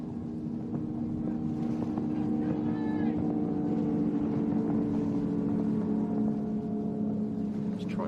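Offshore superboats race on Lake Macquarie in a championship round, a continuous heavy engine drone at middle distance under wind buffeting, with a commentator talking over it.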